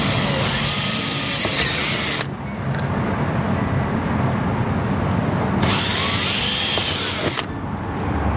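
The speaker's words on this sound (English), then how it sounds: "get your drill with your 9/64 bit and pre-drill the holes" A power drill with a 9/64 bit whines in two bursts of about two seconds each, pre-drilling holes, loud and close, with a rough low hum in the gap between.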